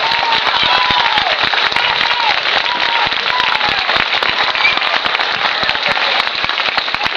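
Loud, sustained applause from a crowd at a local playback-group show in Parderrubias, Salceda, with dense clapping steady throughout and no voices standing out.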